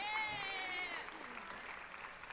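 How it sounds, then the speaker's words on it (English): At the Miss Hudson pageant in 2012, an audience claps for people called up on stage. The applause is faint and brief, following a short burst of high vocal sound. "round of applause for them"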